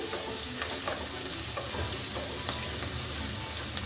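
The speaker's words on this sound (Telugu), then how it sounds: "ఇవి బాగా వేయించుకోవాలి ఫ్రెండ్స్ గోల్డ్ కలర్ వచ్చే వరకు వేయించుకోవాలి" Chopped onions fry steadily in hot oil for Andhra-style chicken curry, a dense, continuous close-up sizzle with faint scraping stirs throughout and no talking.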